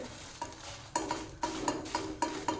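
Dried red chillies fry in oil in a pan for a chicken dish, with a soft, steady sizzle and a few louder stirring scrapes and clinks at intervals, close by and with no voices.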